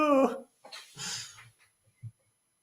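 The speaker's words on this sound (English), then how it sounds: "I don't think wolves react that way when you hit them." A Minecraft wolf whimpers after being hit in the video game, giving a few brief yelps and whines. A voice comes first, then soft short cries trail off near the end.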